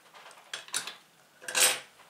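Clinks and scrapes of a utensil against a bowl while stirring a mixture for homemade matsoni, two clusters of quiet kitchen clatter separated by a short pause, close and without speech.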